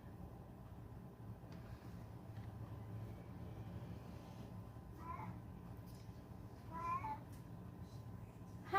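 A cat meows twice, faint and slightly distant, two short calls rising out of a low indoor hum with no talk.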